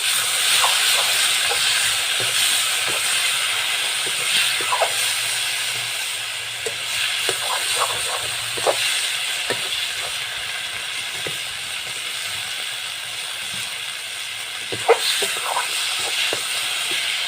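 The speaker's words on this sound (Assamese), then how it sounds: "এয়া বিলাহী ভাজিম এতিয়া।" Steady sizzling hiss of tomatoes frying in a pan, with scattered pops and crackles throughout.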